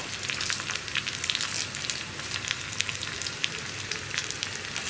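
Onions and curry leaves frying in hot oil while being stirred, a steady crackling sizzle with fine popping, moderately loud and close.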